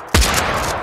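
A single sharp gunshot from a Wild West gun in Totally Accurate Battle Simulator, loud and close, cracking suddenly and then trailing into a short echoing decay.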